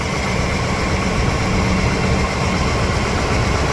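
A 1998 Chevrolet Silverado engine idles close by in a steady, loud, rumbling drone with continuous mechanical whir and no speech.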